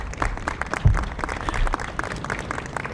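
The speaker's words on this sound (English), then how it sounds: "Give a round of applause." An audience at a civic arts education event gives a round of applause, many hands clapping in a dense, irregular patter at moderate distance, with one sharp low thump partway through.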